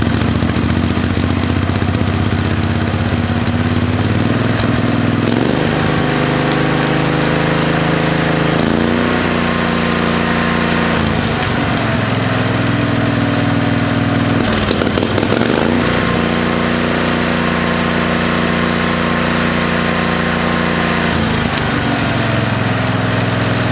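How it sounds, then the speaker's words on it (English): A modified lawn mower engine fitted with a new exhaust system runs loud and close for a long stretch, holding a steady throbbing note with several rises and falls in speed. "I've had some requests to hear the new exhaust system, so we're going to fire it up and let you hear it."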